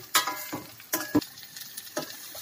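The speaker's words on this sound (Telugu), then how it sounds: "కొంచెం రాగనిద్దాం ఇలాగా మునక్కాయలు కూడా." Drumstick pieces sautéing with salt in a pan, soft sizzling with a few sharp stirring scrapes and clinks, close and intermittent.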